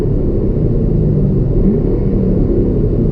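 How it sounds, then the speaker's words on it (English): A Chevrolet Camaro with its stock exhaust rumbles steadily at close range, a deep, continuous engine drone with no talking. "And that's stock exhaust."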